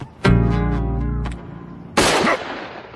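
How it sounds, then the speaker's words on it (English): A gunshot in an animated cartoon scene, a single sharp broadband crack cutting in after a stretch of sustained tonal sound, with a brief decaying tail. "What was that? Just a gunshot."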